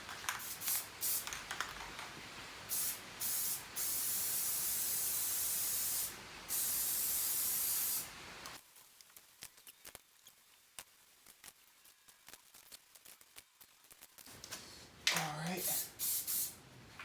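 Aerosol spray paint goes on as a second coat over a 1986 Ford 300 inline-six engine block, loud close hissing bursts of varying length, then a quieter stretch of handling noises before a final short spray burst.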